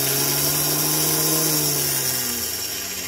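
A 1992 Chevrolet Astro Van starter motor spins freely on a bench test, a loud, close, continuous electric whine with a steady hum that slowly winds down toward the end.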